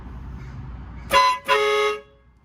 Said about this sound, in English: I'm honking everywhere I go when I need to use it.